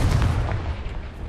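A Confringo fire spell in Hogwarts Legacy bursts with a loud, close, low boom, then decays into a rumbling tail.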